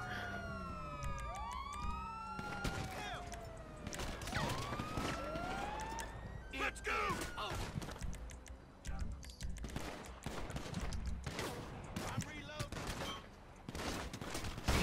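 Police sirens wail and sweep through a GTA 5 Online match, layered with bursts of gunfire and other game sounds, continuing steadily at moderate loudness with a voice talking over them.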